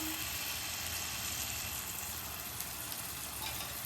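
Malpua batter poured into the centre of a hot non-stick pan, frying with a dense, steady hiss and sizzle that stays close and even throughout.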